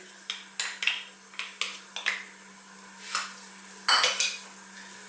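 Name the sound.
onion and garlic added to hot oil and stirred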